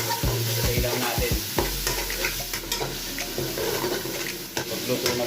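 Beef mince frying and sizzling loudly in a pan while being stirred, with a few clattering scrapes at the start and a steady broadband sizzle throughout.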